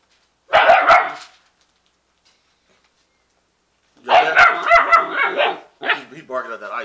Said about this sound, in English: He's barking at that ice.